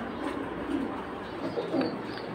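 Pigeons cooing softly in a loft among a flock kept for sale, low repeated coos under steady background noise, no talking.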